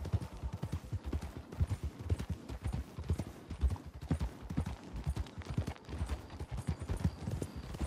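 Horse hooves clip-clop steadily in the open-world Western game Red Dead Redemption 2, a quick continuous rhythm of close, loud hoofbeats with no talking.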